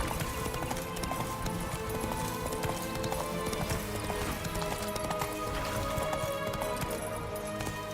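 Horse hooves galloping in Witcher 3, a steady rapid clip-clop that runs loud and continuous throughout over game music and ambience.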